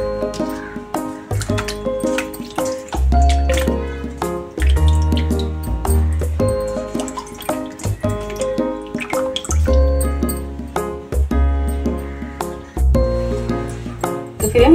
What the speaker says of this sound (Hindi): इस तरह से साफ पानी से धो लेंगे और एक कॉटन में पोंछ लेंगे।